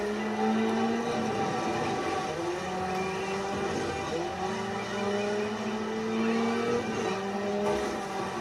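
Engines of cars in an old-style driving video game drone steadily throughout, with overlapping tones rising and sliding as the cars accelerate, sounding fairly close and continuous with no talk.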